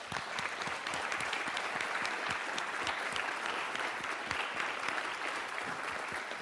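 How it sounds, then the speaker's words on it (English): An audience at an evening panel event on the Covid-19 outbreak claps steadily, a dense, even patter of many hands sustained at moderate loudness throughout. "We'll give them a round of applause"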